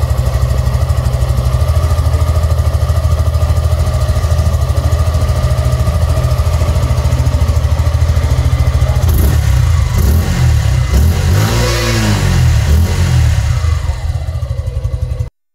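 A 2025 Suzuki Gixxer SF 150 motorcycle with a short double-barrel exhaust idles loud and close, a steady throbbing putter that swells into a brief throttle rev near the end before cutting off, with no talking.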